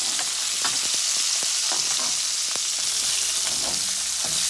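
Spiced boneless, skinless king salmon fries in olive oil in a high-sided pan, giving a steady close hiss of sizzling with small pops and crackles scattered throughout and no voices.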